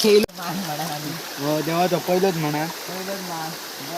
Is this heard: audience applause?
no